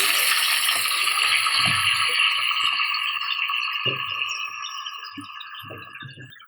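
Chicken pieces fry in a pan for chicken korma, giving a steady bright sizzle that slowly eases off, broken by a few soft low knocks and scrapes.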